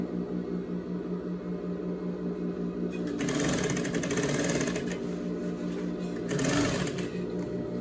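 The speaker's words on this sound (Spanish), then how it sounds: "Y ahí vengo cosiendo hasta llegar al punto que marqué" A sewing machine stitches a pocket on a trapeze-style skirt with cargo pockets, a steady close mechanical hum running throughout and growing louder and busier in two bursts as the stitching speeds up.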